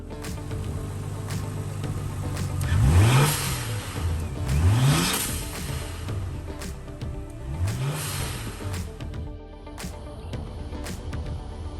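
Nissan Skyline R33 engine, fitted with a new blow off valve, revs sharply three times over a steady idle, each burst rising and falling quickly, with no one talking.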